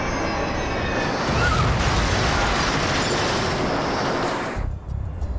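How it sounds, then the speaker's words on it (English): An explosion aboard the Metrojet Flight 9268 airliner, a loud, sustained roaring blast that rumbles for several seconds, then cuts off abruptly into a quieter low rumble. "An explosion produces 2 different types of waves."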